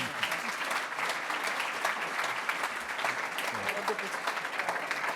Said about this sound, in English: Maybe a round of applause to cheer it up when we do this.